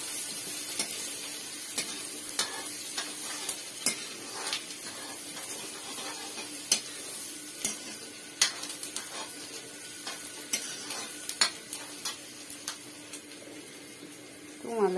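Chopped garlic and onion sizzling in hot oil in a home kitchen pan, a steady quiet hiss broken by frequent clinks and scrapes of stirring.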